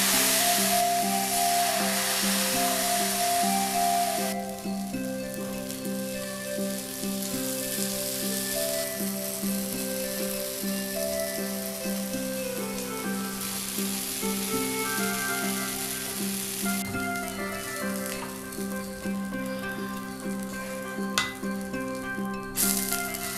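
Ragi dosa batter poured over onions spread across a hot griddle gives a steady, close sizzling hiss for over twenty seconds, easing slightly after the opening seconds, with a low tonal hum running underneath.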